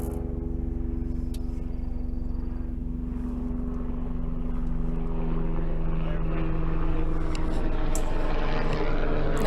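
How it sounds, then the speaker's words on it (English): Steady helicopter engine drone with low rumbling tones continues throughout as it passes overhead, with wind noise and faint voices mixed in. "there's a helicopter flying over the kingdom"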